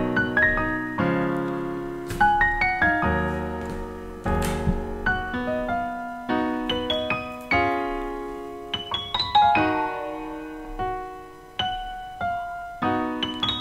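Solo piano melody triggered from an imported MIDI file in a beat-making session, with clear struck notes and chords ringing and decaying in a steady rhythm, close and alone with no voices.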